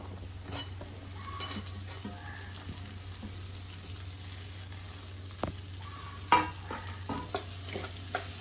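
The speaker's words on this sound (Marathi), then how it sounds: "फोडायचा कच्चेपणा जाईपर्यंत फ्राय करणार आहोत आणि आता आपण यामध्ये कांदा घालणार आहोत" Onion frying in a pan for pithla, a Maharashtrian gram-flour dish, with a steady low sizzle, occasional stirring scrapes and a sharper clatter of utensil on pan near the end, no voices.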